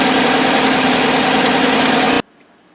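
A loud, rough 2010 GMC truck engine idle with an uneven, rattly misfire beat, loudest at the number 8 exhaust, running steadily close by and then cutting off abruptly.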